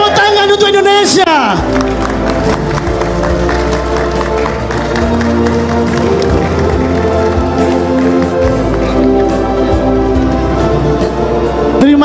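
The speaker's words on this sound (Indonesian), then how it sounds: "Tepuk tangan untuk Indonesia" Audience in a grand ballroom at a national work meeting applauding for Indonesia, a loud sustained wash of clapping with crowd noise and music tones underneath, running continuously throughout.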